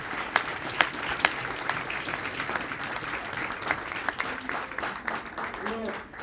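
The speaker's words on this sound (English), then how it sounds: "Give applause. Applause at these folks." Audience at a Gamecock Rugby Hall of Fame event claps steadily, a moderate wash of applause with a few sharp individual claps standing out near the microphone.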